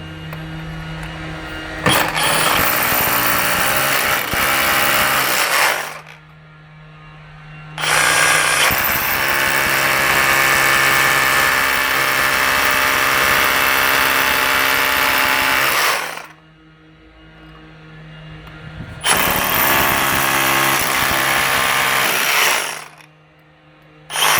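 A power drill runs in three long, loud bursts, grinding steadily into a brick wall, with a low hum and short pauses between bursts.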